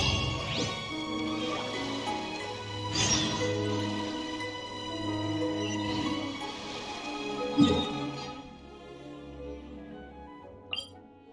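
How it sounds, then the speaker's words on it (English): Steady rain falls in the Genshin Impact game world, a continuous soft wash with a few sharper crashing hits along the way, then thinning toward the end before one last brief clatter. "It's raining again."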